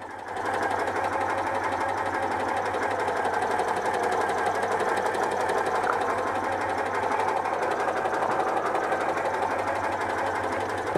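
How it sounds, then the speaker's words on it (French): A Citroën 2CV AZLP6 flat-twin idles very low because of its centrifugal clutch, with the choke still slightly on. It gives a steady, fast mechanical chatter, close and continuous, with no talking. "le ralenti est très bas à cause de l'embrayage centrifuge"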